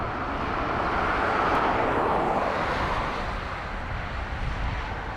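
A Delta airliner takes off at Dublin Airport, a steady broadband jet roar heard from a distance, swelling slightly and then easing off, with no talking.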